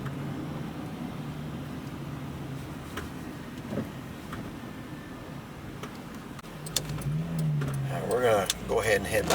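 A car drives through the small downtown of Black Mountain after Hurricane Helene, giving a steady low engine and road rumble inside the cabin with brief rattles and a rise in engine noise near the end.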